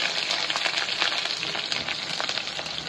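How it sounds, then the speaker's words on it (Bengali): Eggplant pieces sizzle steadily in hot oil with spices for a Bengali hilsa curry, a close, continuous crackling fry with no talk. "এবার আমি এর মধ্যে বেগুন দিয়ে দেবো।"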